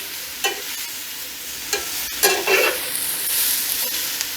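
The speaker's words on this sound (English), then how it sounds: "We just keep stir frying this around here." Vegetables seasoned with salt and pepper sizzle steadily in a pan outdoors, with a utensil scraping and stirring them in several distinct strokes, close up and with no talking.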